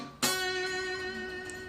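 A single country blues guitar phrase of five notes in a walking blues lick, played alone and close: a sharp plucked attack followed by ringing, slowly decaying strings.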